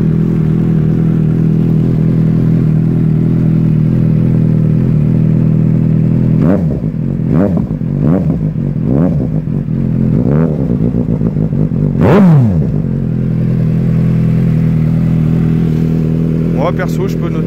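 A Suzuki 750 GSR motorcycle fitted with a K&N air filter idles loudly, then is blipped through a series of sharp revs that rise and fall, ending in one bigger rev before settling back to a steady idle.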